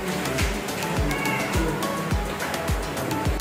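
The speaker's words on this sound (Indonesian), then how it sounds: "Ini kucingnya namanya Himalayan." A Himalayan cat meows amid a steady wash of water and sloshing, with a voice speaking in the background.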